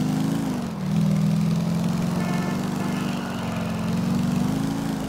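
Motorcycle engine in Grand Theft Auto IV, a steady loud droning hum with small pitch rises and falls as the throttle shifts, continuous and close throughout.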